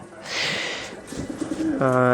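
Fancy pigeons of several breeds cooing at close range, a soft low throaty coo rising near the end with a bright whistling tone above it, and a faint voice underneath.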